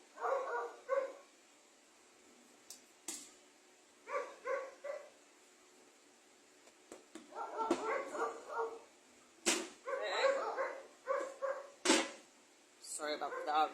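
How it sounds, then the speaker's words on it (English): Several dogs bark in repeated close bursts during a kitchen demonstration of gluten-free pastry dough, with a voice talking between and over the barks. "Sorry about the dogs. Not my dogs."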